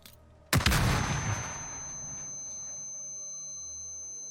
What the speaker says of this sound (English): It's a very large explosion, and we're in a confined space, right?